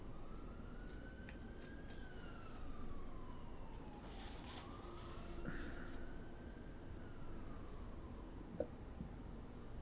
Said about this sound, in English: Could you hear the siren too? Yeah, there's lots of them.